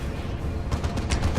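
Plasma cannon fire in the Dawn of War II strategy game, heard as a dense run of low booming blasts with sharper cracks and bursts clustering toward the end, no speech.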